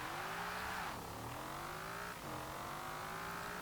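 A 1987 Pontiac Firebird Trans Am GTA's large engine in Forza Horizon 4 revs loud and close, pitch rising through the gears with a brief dip at each shift, faint tyre noise underneath.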